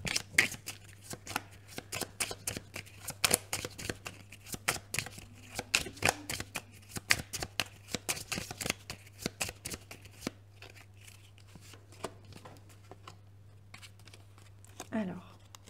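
Tarot cards being shuffled up close, a rapid run of crisp flicking riffles that goes on for about ten seconds, then slows into sparse card taps and slides, with faint talk in places.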